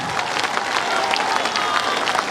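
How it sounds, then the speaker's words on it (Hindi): A large crowd at a political party's founding convention on a veterinary ground claps steadily and loudly, a continuous wash of applause from many hands without a break. "एक बार जोर से ताली बजाइए, तो बजाइए जोर से ताली।"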